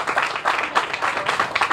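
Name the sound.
crowd applause at ribbon cutting ceremony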